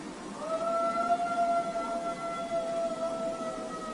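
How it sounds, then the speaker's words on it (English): A dog howls at night, a long wavering tone held for several seconds at moderate distance, with other dogs faintly audible in the background. "so I'm wondering if this was just a really old dog trying to howl."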